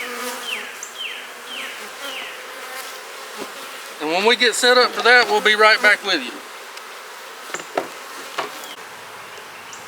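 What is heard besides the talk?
honeybees buzzing around an opened hive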